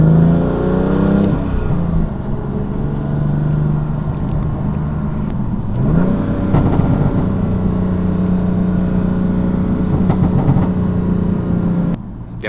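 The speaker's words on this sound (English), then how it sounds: "I need to chill out with all this popping and burbling" A BMW F80 M3 engine rumbles and revs steadily on a mountain road, with a crackling burble and scattered exhaust pops riding over the low drone.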